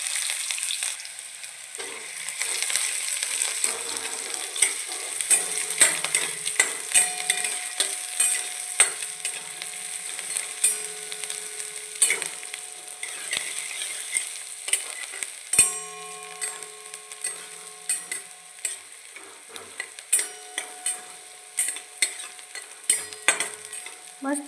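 Garlic and onions fry in oil in a pan for a tomato chutney, a continuous bright sizzle broken by repeated stirring scrapes and light metallic clinks of a spoon, with no voices.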